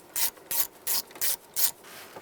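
Five quick ratchet bursts tighten a nut holding a wire onto a fuse terminal on a 2010-2017 Chevrolet Equinox, each crisp clicking run evenly spaced, close and fairly loud with quiet gaps between.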